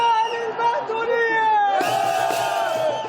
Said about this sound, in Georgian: წმინდა ცეცხლის გარდამოსვლის წინაპირობა მართლმადიდებელი არაბების მიერ ყიჟინით და დაფდაფებით ტაძრის მოლოცვა.